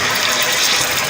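A glass of water is poured into a pot of chana dal gosht cooking with beef, making a loud, steady gush and splash that runs throughout.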